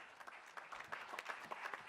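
Applause from the attendees at an alarm association general session, a soft, distant patter of clapping hands that keeps up throughout at low volume.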